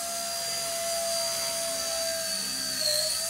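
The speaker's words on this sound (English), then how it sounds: "My motor doesn't sound like it had a good charge or something" The small motors of a Nano S3 micro quadcopter drone flying indoors, sounding a little weak, produce a steady high-pitched whine with a constant tone and a slight pitch shift near the end, close and continuous.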